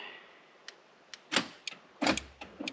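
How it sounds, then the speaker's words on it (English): Power door locks on a Mazda 5 unlock with a few sharp mechanical clunks and thuds inside the car, separated by short quiet gaps with faint clicks, heard alone without talking. "Unlocks the doors."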